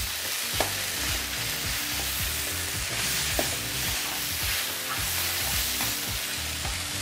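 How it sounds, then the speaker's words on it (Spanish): Beef loin filling for crepes frying in a pan, a steady close sizzle with occasional stirring clicks and scrapes, continuous and alone without any talk. "Acá esperamos un ratito que los ingredientes terminen su cocción y mezclen sus sabores."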